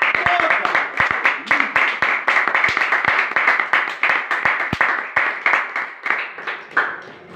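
A church congregation clapping loudly in unison, with sharp, fast, rhythmic claps that stay strong throughout and taper slightly toward the end.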